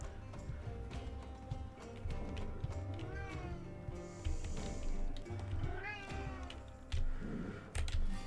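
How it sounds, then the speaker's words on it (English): A domestic cat meows a couple of times, drawn-out and fairly near, over a busy background of other noise, with a person talking faintly. "Get very distracted by your cat if you go meow."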